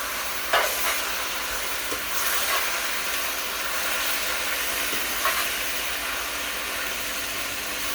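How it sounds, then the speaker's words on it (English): Shrimp tikka masala sauce sizzles in a hot pan as it is stirred, a constant loud hiss with a couple of brief scrapes of the utensil against the pan; no voices. "Stir that in."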